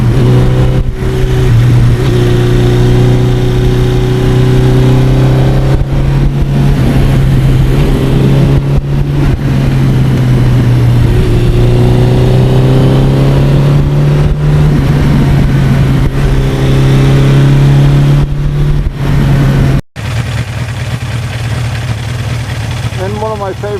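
A 1982 Suzuki GS1100E motorcycle engine runs steadily with a strong low hum, rising and falling through several revs as the bike rides along a lake road, with someone talking over it throughout.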